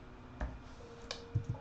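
A few scattered clicks of keys on an external computer keyboard, light and close, with uneven gaps between presses and no talking.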